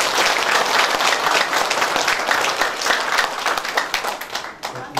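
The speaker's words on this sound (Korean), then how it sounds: "이분을 우리 장관님께서 다시 한번 뜨거운 박수 부탁드리겠습니다" A crowd applauds warmly for a former minister after his address at the founding meeting of a local forum, a thick, sustained clapping that holds strong before thinning slightly toward the end.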